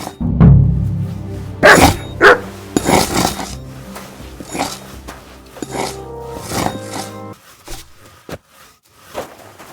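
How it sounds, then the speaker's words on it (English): A dog in the medieval video game Kingdom Come Deliverance 2 barks loudly and repeatedly in uneven bursts, close by, mixed with clattering game sounds and no speech. "You silly doggy."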